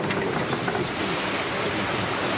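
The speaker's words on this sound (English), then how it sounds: "Oh, that was a big gust." A strong gust of wind roars across a Fort Lauderdale setting ahead of Hurricane Andrew, a dense continuous rushing blast that stays loud throughout with no voices heard.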